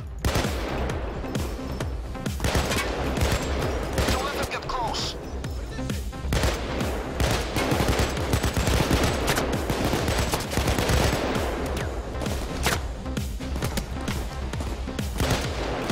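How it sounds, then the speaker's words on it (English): Sustained gunfire from long-range shooting in Payday 2, with dense, rapid volleys of shots continuing loudly and almost without pause throughout, alongside occasional voice. "There's some long range shots."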